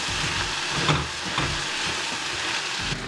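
Roasted peanuts and coriander sautéing in a pan for peanut chutney, giving a continuous soft frying sizzle with a couple of faint stirring scrapes, close and steady with no talk.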